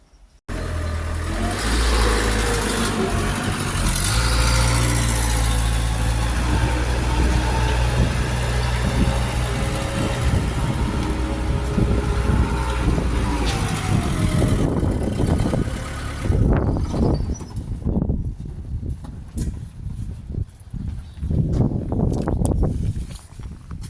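A four-wheel-steer wheeled loader whizzes around a farm yard, its engine droning loud and close with steady low rumble, then revving and surging in uneven bursts as it turns.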